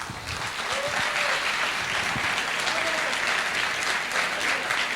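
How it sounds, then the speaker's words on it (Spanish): A conference audience claps steadily and loudly from start to finish, a dense, even wash of applause with no break, filling a hall after a speaker is introduced. "Démosle un fuerte aplauso."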